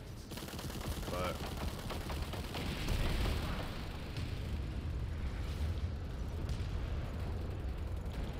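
Dense, continuous battle noise from Planetside 2 with heavy booming and rapid gunfire, a grenade blast mixed into a loud, sustained roar of explosions and shots with no clear pause.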